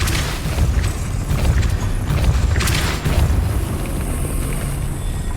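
Depulso spell cast in Hogwarts Legacy: a low rumbling, booming whoosh with creaking mechanical movement and a few sharp bright accents, steady and fairly loud throughout.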